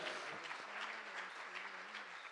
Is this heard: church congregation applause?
yes